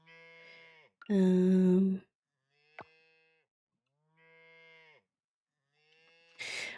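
Cows moo in the farming video game Coral Island, several drawn-out calls with clean pauses between them, one loud and close, the others softer, with a brief click and no talking.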